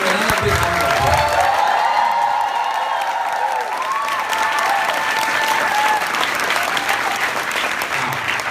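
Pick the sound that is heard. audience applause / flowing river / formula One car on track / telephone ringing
audience applause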